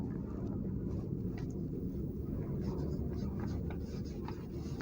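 A pen writing on paper or a board during a class 10 coordinate geometry math lesson, a steady faint scratching that runs the whole time under a low, constant room rumble, with no talking.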